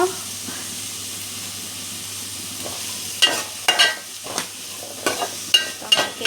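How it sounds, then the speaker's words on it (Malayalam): Onions and a whole chili sauté in a pan for a prawn roast, with a steady low sizzle underneath and several sharp bursts of stirring and scraping scattered through the second half, close and moderately loud. "എല്ലാം വഴറ്റി കൊടുക്കാം അപ്പോൾ ഉള്ളി വാടി വന്നിട്ടുണ്ട്"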